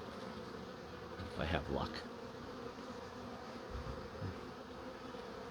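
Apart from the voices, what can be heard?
honeybee buzzing during hive inspection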